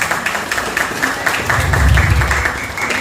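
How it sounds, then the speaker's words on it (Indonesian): Crowd applause at a neighborhood Indonesian Independence Day celebration in a residential complex, a steady wash of clapping rising and swelling for a few seconds amid outdoor murmur. "Tepuk tangan buat orang tua kita semua."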